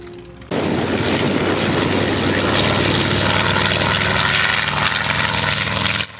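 A loud, steady propeller aircraft engine drone with a constant whirring roar, starting abruptly and continuing unbroken, at the La Ferté-Alais air show.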